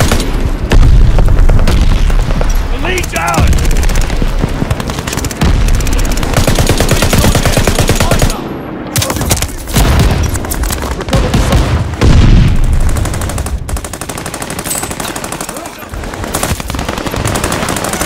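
A Marlin Model 1917 machine gun firing in Call of Duty Vanguard on PS5, loud sustained automatic bursts with brief pauses, mixed with explosions and battlefield noise, and occasional voices.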